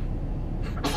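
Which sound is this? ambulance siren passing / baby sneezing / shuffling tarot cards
baby sneezing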